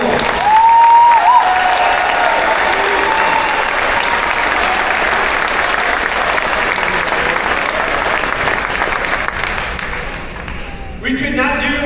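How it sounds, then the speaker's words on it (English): Audience at a high school fall meet-the-teams night gives sustained, loud applause with cheering throughout, dense and continuous, thinning slightly near the end. "let's have a big round of applause for Mrs. Lori Ballard and Mr. Van Brodel"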